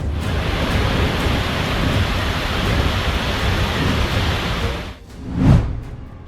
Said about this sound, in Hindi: उफान पर यमुना।